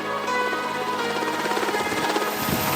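Helicopter flying during Brazilian special forces jungle training in the Amazon, a steady loud rotor and engine drone with rhythmic blade chop running throughout, no talking over it.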